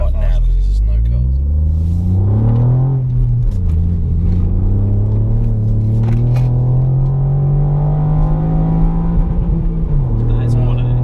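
Ford Fiesta ST (MK8) three-cylinder engine revving hard from inside the car, a loud rising drone through the gears with brief dips at shifts, talk running underneath.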